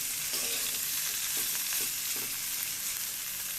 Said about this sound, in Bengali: টমেটো টমেটোগুলো খুব ভালো করে ভেজে নিচ্ছি